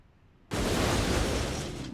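Car crash impact in a video game, arriving as a sudden loud burst of noise after a quiet moment and then holding as a sustained, dense roar.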